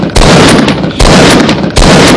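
Rapid gunfire strikes a building in Fortnite, with dense bursts of shots coming in three loud waves separated by brief gaps.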